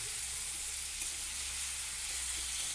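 Leafy greens cooking in a pan after a splash of water, a constant soft sizzle and hiss with faint stirring underneath.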